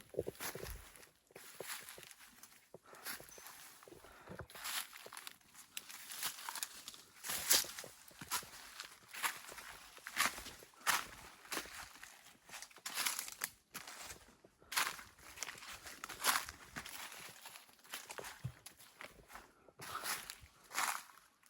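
Footsteps crunch through dry, leaf-littered forest ground in a drought, a steady series of crackling steps close by with rustling between them and no talk.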